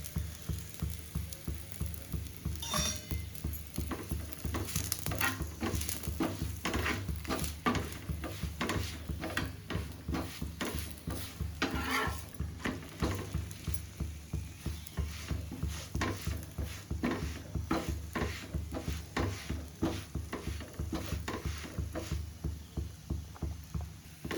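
A chapati cooking with a little oil on a home stovetop pan, giving a steady, soft crackle and pulsing sizzle with repeated scraping or pressing strokes, close and alone with no talk.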